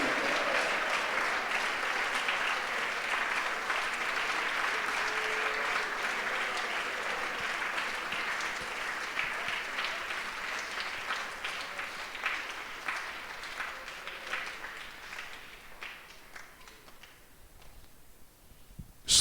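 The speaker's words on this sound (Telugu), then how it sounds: "చప్పట్లు కొడుతూ స్తుతించమన్నాను" Sustained applause from a church congregation clapping in praise at a Christmas service, a thick continuous patter of many hands that slowly thins and fades toward the end.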